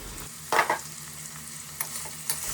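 A ladle stirs spiny gourd (kantola) curry in a hot covered pan, a couple of sharp scraping strokes over a soft continuous sizzle, close and otherwise quiet.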